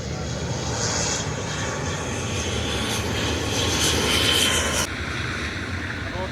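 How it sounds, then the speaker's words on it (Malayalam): A passenger airplane lands at Karipur airport, heard up close as a loud, sustained engine roar with a rising whine that cuts off sharply before a quieter rumble continues. "ഇന്ത്യക്കാരുടെ ഫ്ലൈറ്റ് ഇറങ്ങിയിട്ടുണ്ട്"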